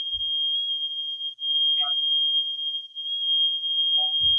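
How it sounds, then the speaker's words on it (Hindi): Electronic voting machine at a polling booth in Udhampur giving a long, steady high-pitched beep after a vote is cast, clean and continuous apart from a brief dropout, with faint thumps at the start and end. "तो ये बीप की आवाज ये बताती है कि जिस उम्मीदवार को आपने वोट किया आपका वोट उस तक पहुंच गया।"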